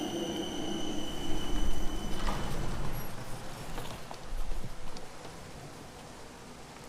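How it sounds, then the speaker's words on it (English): A tram pulls in at a stop in Hanover, a broad rolling rumble of wheels on rails with faint metallic squeal, swelling as it nears and then easing off into low street ambience. "There's my tram already."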